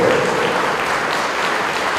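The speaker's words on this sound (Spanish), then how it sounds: "un aplauso fuerte para la primera participación de los productores del grupo" Steady applause from a seated audience at a strategic dialogue event, a brief dense burst of many hands clapping, fairly loud and continuous.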